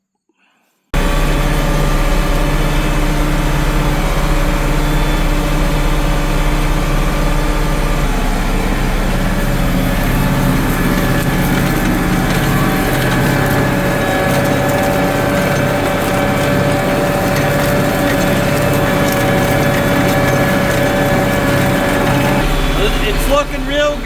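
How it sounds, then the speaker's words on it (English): International 1486 tractor pulling a disc chisel through weeds on a steep hill, a loud, steady diesel engine drone with deep rumble and clattering implement noise, starting abruptly and running continuously up close. "let's see what the 1486 can do, and let's see how these disc chisels rip these weeds up"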